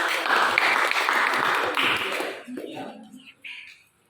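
A classroom group claps briefly after a student presentation, a dense burst of applause that breaks off after two seconds into scattered taps and faint voices.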